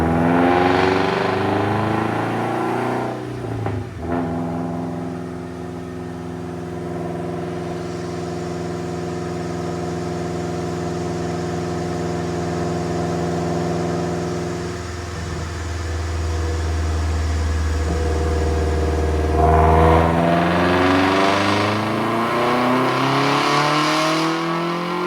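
A high-mileage car engine with 176,000 miles is held at a steady high rev for a long pull, then drops back and revs up again near the end, loud and close.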